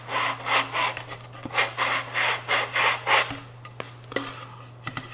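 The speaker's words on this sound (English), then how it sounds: "I'm also going to take a sanding stick and polish the end to square it up" A sanding stick rubs back and forth in quick, even strokes against the end of a plastic V-2/A4 model rocket part, close and dry over a low steady hum, ending with a few light taps.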